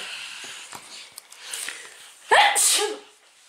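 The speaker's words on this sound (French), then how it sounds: "je vais éternuer 2 heures, dis donc" A single loud sneeze bursts out near the end, preceded by quiet sniffs and breathy inhales.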